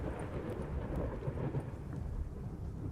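Rain and a low thunder rumble fill an outdoor scene in a survival video game, a dense steady wash with rolling low-end rumble throughout, faint and alone with no voices.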